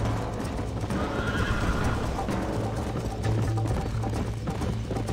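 A horse galloping in Red Dead Redemption during a race, continuous rhythmic hoofbeats close and loud throughout, with neighing and a dense layer of game noise around it.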